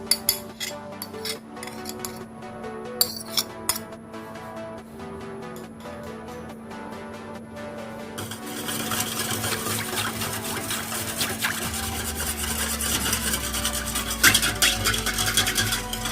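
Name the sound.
stirring heavy cream for milk pudding in a pot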